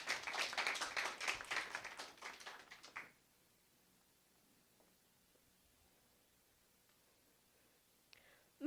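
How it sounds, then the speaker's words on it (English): A debate audience gives a round of applause for a speaker, dense clapping for about three seconds that cuts off abruptly into near silence, followed by a brief faint sound at the end. "Give her a round of applause"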